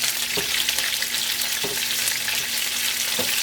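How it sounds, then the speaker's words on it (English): Green beans and broccolini fry in a pan of rendered fat from chicken and chorizo, giving a loud, continuous close-up sizzle broken by a few soft thuds as they shift in the pan. "then we're going to put in our green beans and broccolini"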